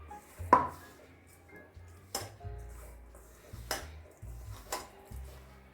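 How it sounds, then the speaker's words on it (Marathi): A spoon stirs a sesame and jaggery filling in a metal bowl, making several sharp clinks and scrapes spaced a second or so apart against a quiet background, with no voices. "आता हे परत चांगलं मिक्स करून घेऊ म्हणजे आपलं सारण व्यवस्थित असं तयार झालेलं आहे"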